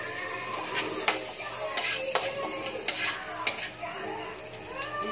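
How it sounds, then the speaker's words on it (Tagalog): Onions and garlic sautéing in margarine in a pan, with a steady soft sizzle under repeated scraping and clinking stir strokes, close and moderately loud. "Hindi masunog yung ating margarine. Yung mga sibuyas tsaka yung garlic ko."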